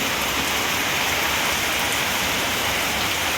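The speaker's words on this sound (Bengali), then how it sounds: "আর এই যে জব জবাই বৃষ্টি নেমে গেছে" Steady, heavy rain pours down in a continuous dense hiss, close and even throughout, with no voices.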